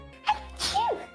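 A baby bird gives a tiny, sharp sneeze, heard close and alone, followed by a soft high squeak.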